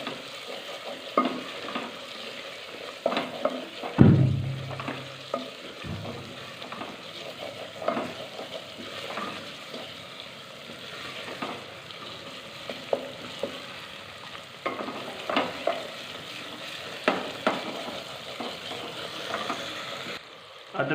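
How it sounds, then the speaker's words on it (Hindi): Ginger and garlic paste frying with browned onions in a pan, giving a continuous close sizzle broken by repeated scraping stir strokes and one louder knock of the spoon early on. "अदरक और लहसुन का पेस्ट हमने ब्राउन कर लिया है।"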